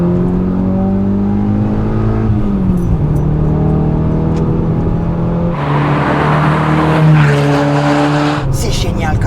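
Citroën Xsara Coupé VTS with self-steering rear axle being driven, its engine droning steadily from inside the cabin and rising in pitch as it accelerates through gears, with people talking over it throughout.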